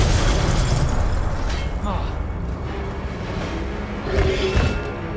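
Incendio fire spell cast in the video game Hogwarts Legacy, a loud whooshing burst with booming, crackling blasts that swell again near the end, under a noisy game background.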